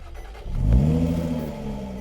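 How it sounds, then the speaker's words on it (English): A 3-liter supercharged V6 with 380 horsepower in a 2018 Jaguar XF Sportbrake cranks and fires up, then swells into a loud, close rev and settles into a steady deep idle. "The show continues as the 3-liter supercharged V6 comes to life with 380 horsepower"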